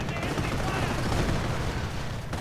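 Dense gunfire and machine-gun bursts as riflemen come under attack from German Panzer forces in a WWII strategy game, a continuous, loud clatter of battle noise with no pauses.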